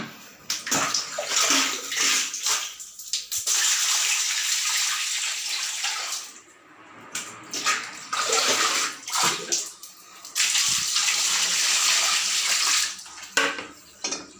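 Running tap water rinses a scrubbed pot lid after stain-remover cleaning, a steady close splashing stream with clinks of cookware, pausing briefly before resuming.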